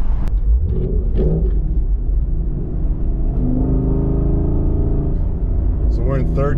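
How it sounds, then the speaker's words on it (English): A Ford Mustang GT drives through town in third gear at about 40 mph, its exhaust a steady, loud, low rumble that swells slightly as it pulls, heard from inside the car with someone talking over it. "I'm trying to drive with one hand so you guys can get a little bit of that exhaust"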